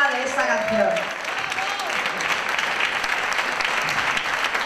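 Audience at a film preview presentation applauds a song's author, steady dense clapping throughout with a voice speaking over the opening moments.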